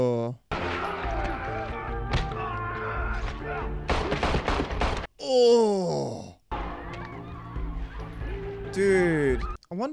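Gunshots from the 2014 action film John Wick come as sharp bursts in quick succession amid film dialogue and music, with a viewer's voice reacting in between.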